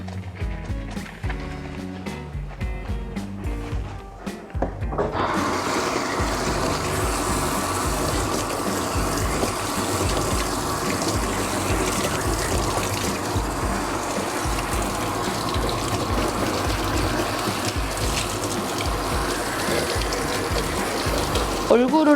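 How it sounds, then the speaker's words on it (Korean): A handheld shower sprays water to rinse a dog during a bath, starting quieter then turning into a loud, steady hiss of running water for most of the clip, with a voice talking faintly beneath. "이 샤워기로 강아지가 놀라지 않도록 볼 부분에서 물줄기가 가서 얼굴이 씻겨지도록"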